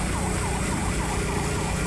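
A fire truck siren wails continuously with a rising and falling sweep, loud and close, over a heavy road and engine rumble at a fire where burning oil is being fought.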